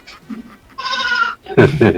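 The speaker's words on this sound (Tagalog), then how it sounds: "Narinig akong kambing." A goat bleats in a long wavering call, loud and close, followed by further nearby voice or bleat sounds, with people talking in a casual outdoor setting.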